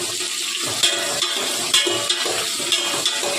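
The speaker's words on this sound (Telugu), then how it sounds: "ఆనియన్స్ అను పచ్చిమిరపకాయలు వేగుతున్నాయి కదండి" Onions and green chillies frying in a pan for mutton curry, a steady close sizzle with periodic scraping stirs of a spoon, no talk.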